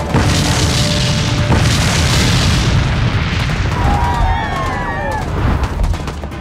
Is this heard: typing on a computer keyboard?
no